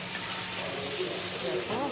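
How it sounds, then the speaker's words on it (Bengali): Spices with potato and pointed gourd being fried and stirred in oil for a Bengali fish curry, giving a steady close sizzle with soft scraping, and faint voices underneath. "এবারে মশলাটাকে কষবো ভালো করে। আলু পটলটাকে মশলার সঙ্গে কষতে হবে।"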